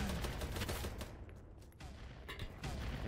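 Online large-scale warfare shooter game battle heard as a continuous barrage of distant gunfire and explosions, including a grenade blast, a dense rumbling din that dips briefly mid-clip before swelling again, with no talking.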